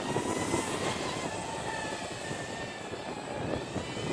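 A JJRC JJPRO P130 Battler drone flies outdoors in breezy wind, its motors giving a continuous high whine that holds fairly steady and loud throughout.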